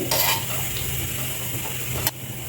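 Green chillies frying in a spoonful of oil in a small pan, a close continuous hiss and sizzle with a sharp utensil tap near the end.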